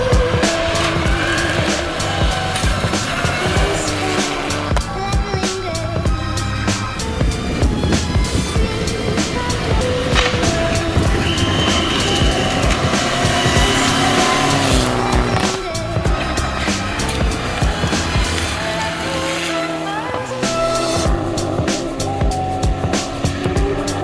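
A rally car races flat-out along a stage at the 2018 South Estonian Rally, the engine roaring continuously with revving gear changes, tire noise and gravel spray, loud and close throughout.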